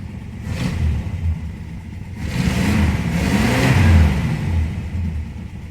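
A 1966 Dodge Coronet engine runs and revs up, the steady mid-range rumble swelling through two throttle blips before easing back.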